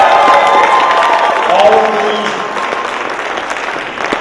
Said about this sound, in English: give a round of applause to all the amazing athletes behind the stage